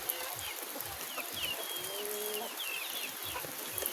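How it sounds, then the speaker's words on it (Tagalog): Gamecocks kept in a cage on a small farm give soft, scattered clucks and low calls at a distance, with light background noise and no talk. "And then meron tayo ditong panabong na manok."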